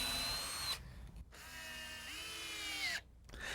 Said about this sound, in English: I first drill pilot holes to prevent the screws from splitting the ends of the boards